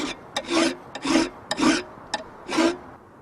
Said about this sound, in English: That's the filing done.